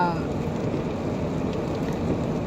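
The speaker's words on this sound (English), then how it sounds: "it's raining pretty badly" Heavy rain falls during a drive toward the San Bernardino area, a dense, steady wash of hiss and patter mixed with road rumble from the moving car.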